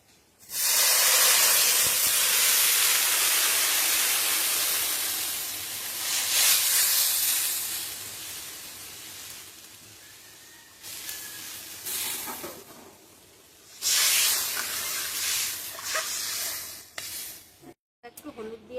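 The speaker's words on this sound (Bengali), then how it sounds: "এখন জল দিয়ে দেবো।" Water poured onto fried potatoes in a hot pan bursts into a loud, broad steaming hiss that gradually fades, flaring again briefly later, with a little background noise.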